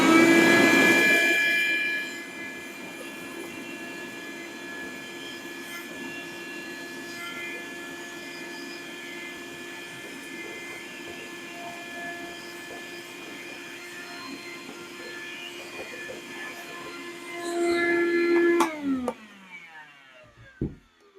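DeWalt 2-gallon cordless shop vac running steadily and loudly, sucking up piles of debris with a sustained whine, switching off near the end with a fading spin-down.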